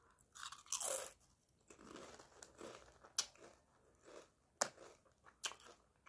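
Crisp Snappers corn chips crunch loudly between the teeth, in a series of sharp bites and quieter chewing, close up and without talk.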